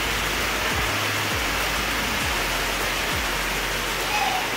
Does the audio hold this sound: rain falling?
yes